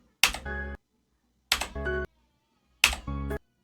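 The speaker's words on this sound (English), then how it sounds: "tapping my keyboard so that you can hear my keyboard's sound" Three separate keypresses on a computer keyboard, each a sharp tap followed by a short toned beep of feedback, spaced evenly with silence between them, close and clear.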